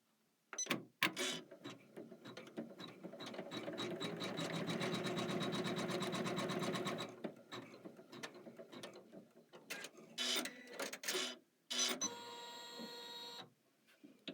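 A home embroidery machine stitches a design with a rapid, steady mechanical whir and needle clatter for several seconds, then stops and restarts in short bursts with clicks and pauses, close and clear with no talking.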